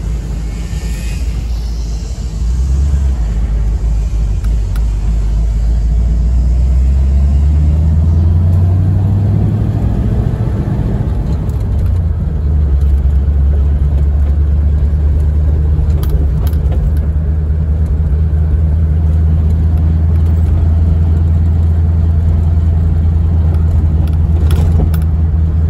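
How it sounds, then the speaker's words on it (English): A 1940 Mercury Eight convertible drives along, its engine a deep, loud rumble heard from inside the car, rising as it accelerates through the gears then settling into a steady cruising drone. "A short drive in our 1940 Mercury 8 convertible"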